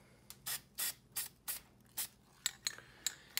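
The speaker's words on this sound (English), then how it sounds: "and now we're going to spray the back with primer" Aerosol spray can of primer hissing out in a run of about nine short bursts, the early ones longer and steadier, the later ones quick sharp puffs, close and fairly loud with no talking.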